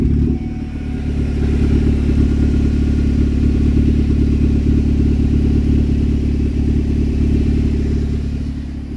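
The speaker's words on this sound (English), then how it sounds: "normally the car shouldn't be this loud" A car whose catalytic converter was stolen roars with a loud, deep, steady engine drone throughout, rough and unmuffled, with no voices.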